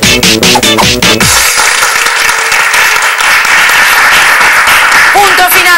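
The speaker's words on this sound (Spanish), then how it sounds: "Un aplauso ahí, Labrán, señores." A studio audience bursts into loud, dense applause right after a burst of music and a shouting voice, the clapping swelling and holding strong before speech cuts back in near the end.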